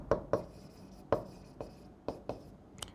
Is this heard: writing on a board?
yes